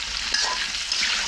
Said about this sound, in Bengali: তেলের ভিতরে আলুটা দিয়ে আলুটা ভাজতে আছে।